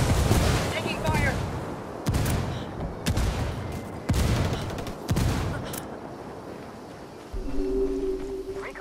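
Heavy bursts of gunfire in a video game battle in a cornfield, several loud booming shots spaced about a second apart, dying away before a tonal game sound at the end.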